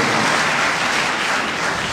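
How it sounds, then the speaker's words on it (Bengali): Sustained applause from an audience at a student reception honouring SSC and Dakhil exam A+ achievers, held by Islami Chhatra Shibir. Steady, dense clapping fills the whole stretch without a break and without voices over it. "সবাই একসাথে করতালির মাধ্যমে আমরা আমাদের বোনদেরকে কংগ্রাচুলেট করব।"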